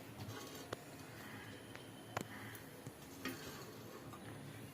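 Faint, steady sizzling of oil on a hot griddle, with a few sharp ticks and clicks scattered through.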